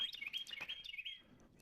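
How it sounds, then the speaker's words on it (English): Small birds chirp and tweet in quick bright bursts, close and fairly clear, on a quiet foggy Saturday morning in Charlottesville, with the calls thinning out after about a second. "You can listen to the birds."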